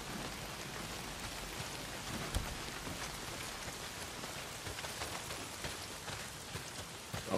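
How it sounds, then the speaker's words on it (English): Heavy rain pours down in the video game Days Gone, a steady, dense downpour hissing across surfaces at constant loudness for the whole stretch, with no voices. "Well, not if it's pissing down rain."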